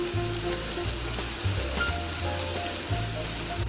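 Spices frying in a hot pan with a steady, even sizzle and crackle, close and continuous, with a low hum running underneath.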